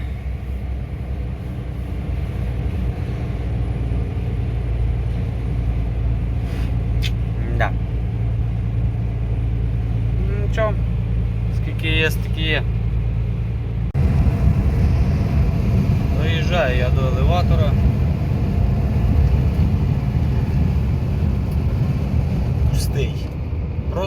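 During the grain harvest, an empty vehicle drives along with a low, continuous engine rumble. Engine noise fills the cab, a voice talks over it, and the tone shifts slightly about halfway through.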